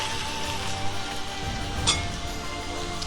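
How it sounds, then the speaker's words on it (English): Hot oil poured over chopped onions and ginger gives a steady, crackling sizzle with a few small clinks, close and continuous throughout. "I'm going to pour a little bit of hot oil on top of this onions and ginger so it just can cook instantly"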